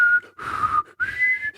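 A person whistles a few close, clear tones, each rising slightly in pitch, separated by short breaks.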